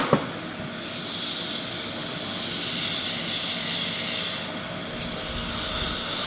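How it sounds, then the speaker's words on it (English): Sandpaper rubs against a spinning black heart sassafras stirring stick on a wood lathe, making a continuous loud hissing rasp that starts after a brief knock and runs steadily with slight shifts in pressure. "Here comes the boring part, which is the sanding."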